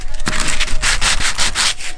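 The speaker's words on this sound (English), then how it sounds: "today I'm just sanding them off with a really fine sandpaper" Fine sandpaper rubbed by hand over dried wood filler in a wooden wall panel inside a van conversion: close, steady rasping strokes in a quick back-and-forth rhythm with no talking.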